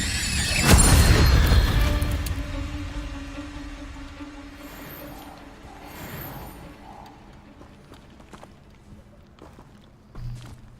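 Incendio fire spell cast in Hogwarts Legacy, a loud whooshing burst of flame up front that fades into a lingering crackle and low rumble, followed by quieter game ambience and a short thud near the end.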